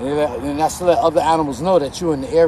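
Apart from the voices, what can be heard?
None of the usual background noises is heard.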